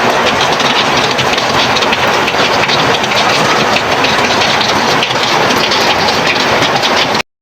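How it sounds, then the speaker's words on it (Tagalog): Heavy rain pours steadily outdoors on a morning, a dense, unbroken roar of drops hitting surfaces at full loudness throughout, with no talk over it. "At ayan po, dinig na dinig nyo, ang lakas talaga ng ulan."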